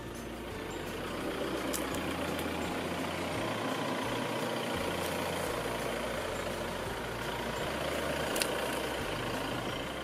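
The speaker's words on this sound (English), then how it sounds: "Don't you just hate it when you accidentally run over your UHF in a dual cab ute?" Dual cab ute rolling over a Uniden UH850S UHF radio, a steady loud engine drone with low rumble throughout and a brief sharp knock near the end.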